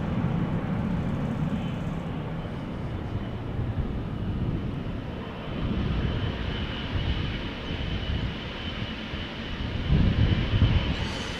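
An airliner takes off at Amsterdam Schiphol Airport, a sustained jet roar with a low rumble that swells and eases slightly and grows louder near the end.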